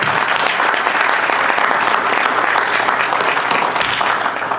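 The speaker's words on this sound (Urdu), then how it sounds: "تو میرے ساتھ بہت تالیاں بزم ادب اٹلانٹا کے لیے۔" An audience applauds steadily throughout at a Bazm-e-Adab Atlanta Urdu literary session, a dense, even wash of many hands clapping that stays loud from start to finish.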